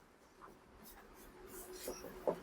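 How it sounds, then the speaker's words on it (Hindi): Pen scratching on paper while an algebra solution is written out in a math lesson, soft intermittent strokes building up over a few seconds, close and faint, with no talking. "अब यहाँ हम हल में लिखते हैं"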